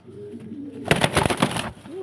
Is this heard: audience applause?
no